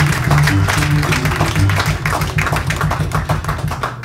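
A church congregation claps steadily in rhythm, loud and close, over music with a low droning hum, with no clear cheering voices.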